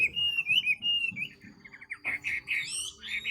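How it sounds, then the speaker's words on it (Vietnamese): A fighting songbird sings a rapid run of bright whistled chirps and trills, up close and clear, with the notes coming fast and continuously, turning into quicker, higher warbles near the end. "đặc biệt là giọng rất nhanh, tốc độ mỏ chẹp chẹp chẹp liên tục"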